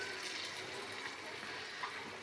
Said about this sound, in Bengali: এবার আমি জলটা দিয়ে দিচ্ছি, এবার আমি জলটা দিয়ে দিলাম।